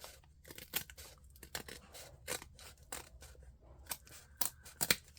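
Scissors trim cardboard packaging for a DIY book-themed journal cover, a quiet, close series of sharp snips and crinkles at an irregular rhythm, with no talking.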